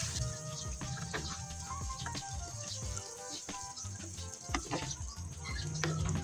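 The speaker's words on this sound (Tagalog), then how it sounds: "Then pakuluan ko lang ulit hanggang sa lumambot naman yung mga gulay na inilagay ko." A pot of Ilocano pakbet with eggplant, okra, bitter gourd and sweet potato simmers in a steady, close bubbling sizzle, with occasional clinks and stirring noises mixed in.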